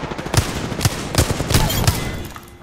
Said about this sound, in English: There's another one shooting at one of the bad guys.